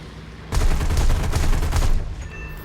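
Aircraft cannons fire in War Thunder as one loud, close burst lasting about a second and a half, with a short tail after it.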